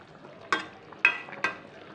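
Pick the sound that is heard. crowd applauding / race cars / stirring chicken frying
stirring chicken frying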